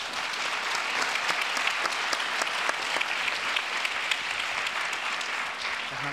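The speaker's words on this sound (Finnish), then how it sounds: "Annetaan paneelille aplodit." Audience applause for a panel at a Finnish discussion event on financial crises, continuous even clapping from a sizeable crowd at moderate volume, holding steady throughout with no talking over it.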